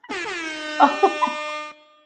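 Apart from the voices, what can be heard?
air horn blasts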